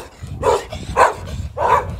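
A dog barks three times at a steady, roughly half-second spacing, fairly close and loud over a low background rumble, with no one talking.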